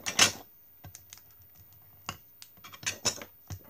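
A paper tea pouch is folded by hand, giving close, crisp crinkles and sharp rustling snaps in irregular bursts, loudest at the start and again near the end.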